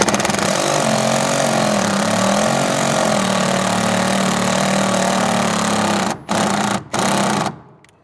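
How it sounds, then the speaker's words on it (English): Impact driver running continuously as it sets a rib nut in a Chevy Colorado truck bed, a loud close buzzing drone that briefly cuts out twice before stopping. "right about here is where I hear our impact kind of laboring a little bit, so I'll back it out"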